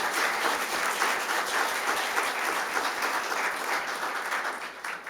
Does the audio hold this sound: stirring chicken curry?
no